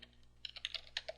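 A burst of computer keyboard typing as a shell command is entered, about a dozen quick, close keystrokes in an uneven rhythm over a quiet background hum.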